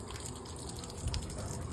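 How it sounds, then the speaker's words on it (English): A bilge pump pushes water out of a boat livewell, producing a constant rushing gush of flowing water with a low pump hum underneath, steady and close. "it will pump it out of the boat till it runs dry"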